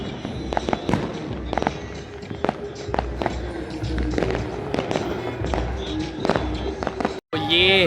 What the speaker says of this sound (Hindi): सब जगह पे पटाखे जल रहे हैं